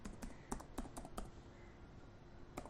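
CSS code is typed on a computer keyboard in quiet, scattered keystrokes: a handful of close, crisp clicks in irregular rhythm, with a pause before a final tap.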